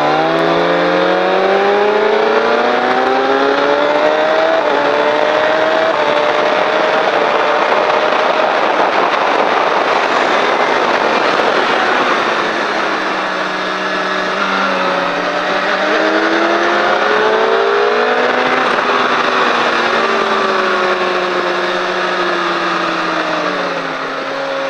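A loud racing car on a circuit accelerates hard out of a corner, its engine climbing through the gears, then easing and revving up again, close and continuous with no voices.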